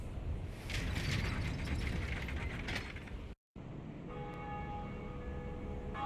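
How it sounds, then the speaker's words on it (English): A large bell in a bell tower in the video game Dark Souls rings out with a loud metallic clang and sustained ringing tones after a brief silence, preceded by mechanical clanking and rumbling. "And I'm gonna ring the bell,"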